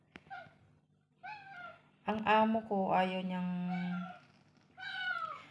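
Several cats meow indoors in a bedroom, a series of distinct close meows with one long drawn-out cry, while someone talks between them.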